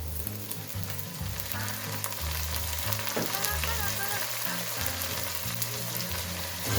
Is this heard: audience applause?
no